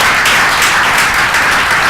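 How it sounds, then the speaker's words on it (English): Audience at a security forum applauding its two speakers: a dense, loud, continuous wash of clapping from a full room, heard alone for about two seconds. "Could we give a round of applause to our two speakers today?"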